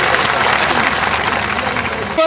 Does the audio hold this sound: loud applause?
yes